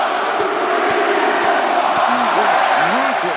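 Steady roar of a large arena crowd in the WWE 2K25 wrestling video game during a tense finish, continuous and loud, with a commentator's voice talking over it.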